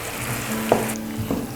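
Potatoes frying in a pot and being stirred, a steady close sizzle broken by a couple of short scraping knocks from the stirring.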